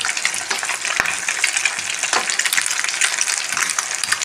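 Eggs frying in a hot pan for a pepper egg roast make a loud, steady, close sizzle with crackling spatter and a few sharp clicks. No voices are heard.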